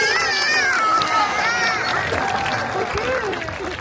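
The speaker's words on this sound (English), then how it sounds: "Can we get one final massive round of applause for Lolita, Zana, Ruby" A crowd at a zoo sea lion show applauds, a broad rush of clapping and crowd noise mixed with excited voices and whistly tones, loud at first and easing slightly toward the end.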